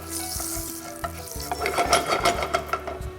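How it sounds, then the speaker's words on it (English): Cumin seeds roasting in hot oil fizz and crackle in a pan, with a soft scraping stir that becomes denser and louder in the second half of the short burst. "Now around 2 teaspoons of cumin, nicely roast in oil."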